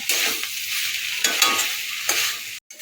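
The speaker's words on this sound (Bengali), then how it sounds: "আমি এটাকে ভালো করে নাড়াচাড়া করবো একদম ভাজা ভাজা পেতে করবো" Steady frying sizzle as small fish are stirred and fried until crisp, with spatula scrapes and stirring strokes in a pan, a few sharper scraping accents, brief silence near the end.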